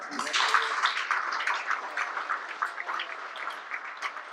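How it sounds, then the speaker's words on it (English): An audience at a talk claps together in a dense, crackling burst that stays fairly even and moderately loud, then thins slightly toward the end. "Give yourselves a round of applause"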